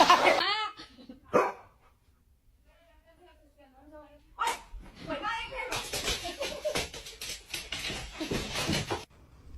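A misbehaving pet dog barks and yelps in short bursts near the start, then a long stretch of loud, overlapping voices and laughter fills the rest, with a voice among them.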